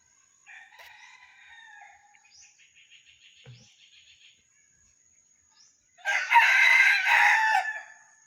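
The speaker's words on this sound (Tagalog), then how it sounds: "Ganda talaga ng tilaok mga kasabay" A red junglefowl rooster crows outdoors: a thin two-part call with a trailing series of short notes, then a louder, fuller crow closing out the stretch, with quiet gaps between.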